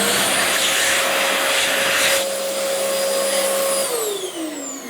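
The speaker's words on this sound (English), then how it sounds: "That's right, it's a hand dryer." An electric hand dryer blows a loud, steady whooshing roar with a high whine, the pitch dipping slightly midway and sliding down as it winds off near the end.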